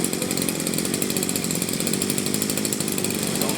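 A small two-stroke Japanese brush cutter engine runs steadily at high revs, a loud buzzing drone with no pauses or speech.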